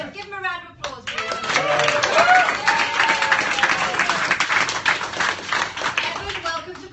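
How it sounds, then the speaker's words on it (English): A small live audience at a performance event claps and applauds, starting after a brief voice and building to steady, fairly close clapping with some chatter mixed in underneath. "give him a round of applause"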